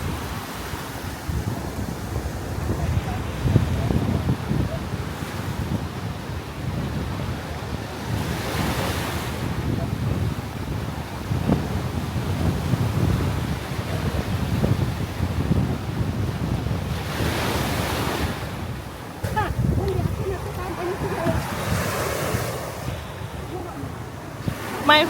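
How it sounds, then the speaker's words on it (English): Steady surf and gusting wind roll on at Strawberry Beach in St. Mary, Jamaica, a continuous near wash of breaking waves with buffeting wind noise across the microphone, no voices. "Welcome to Strawberry Beach."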